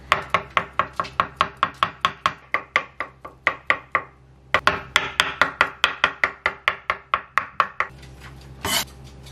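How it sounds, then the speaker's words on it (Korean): Cooked egg whites being minced with a knife on a cutting board, a steady run of about thirty crisp, evenly spaced chops with a short pause midway, close and clear with no talking. "이렇게 흰자는 조금 다져주겠습니다."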